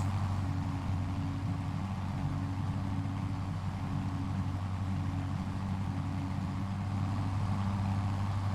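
A big tractor engine running under load in the farming video game Farming Simulator 25, a steady low diesel drone with a constant hum, loud and unbroken throughout.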